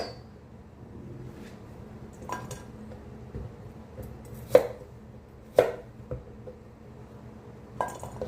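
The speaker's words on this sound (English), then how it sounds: "So let me show you how we cut the bitter melon. Now, you want to cut the edges off" A knife cuts the ends off a bitter melon on a cutting board, giving a few sharp, distinct chops spaced unevenly over a quiet kitchen background, close by and with no talk.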